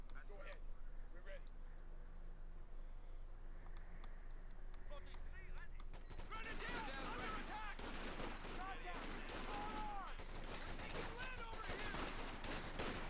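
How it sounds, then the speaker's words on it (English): Riflemen and Pathfinders armed with BARs exchange rifle and machine-gun fire in the video game Company of Heroes 2. Faint crackling shots early give way to denser, overlapping bursts in the second half, with talk running over them. "Bit of shooting in there, folks, in the far here from Riflemen, Pathfinders, and everything else they can bring to bear."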